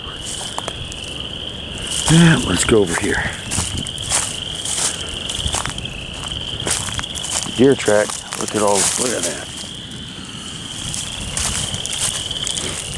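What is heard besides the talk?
frogs calling near a swamp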